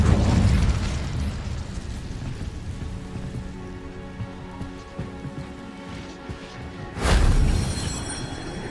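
Casting the Incendio fire spell in the video game Hogwarts Legacy gives a loud, crackling burst of flame that roars and then fades into a sustained fiery rumble, with a second sharp whooshing blast near the end.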